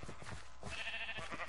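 Sheep bleat in quick, close, cartoonish cries from an arcade video game, several bursts over a busy background of game sound.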